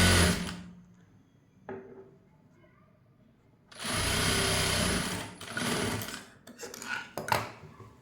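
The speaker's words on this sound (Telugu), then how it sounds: "ఇలా ఎండింగ్ వరకు ఒకే స్టిచ్ ఇలా వేసుకుంటూ వెళ్ళిపోవాలి" A sewing machine stitches a blouse seam in separate bursts: a quick start, a long quiet stretch, then a sustained run and several shorter spurts, close and without speech.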